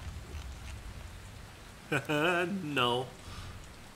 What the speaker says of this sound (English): now I'm supposed to be worried that there's a little rain and thunder